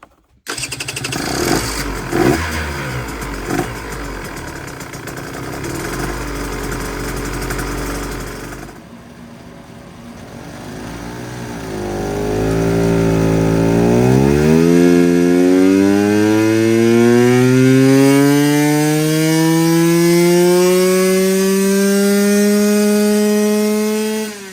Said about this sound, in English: So let's get into some dyno runs now.